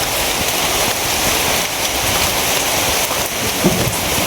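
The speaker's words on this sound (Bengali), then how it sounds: "বৃষ্টি শুরু হয়ে গেছে আবার।" Steady, loud rain pours down close by on a rainy day around Eid, a dense continuous wash of drops on surfaces with no voices for its full length.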